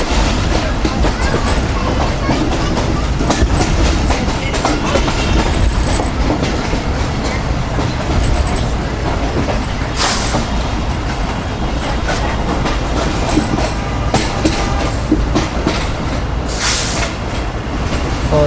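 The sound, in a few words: Pak Business Express train approaching a station slowly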